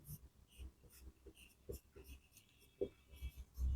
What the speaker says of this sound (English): Let's write the answer.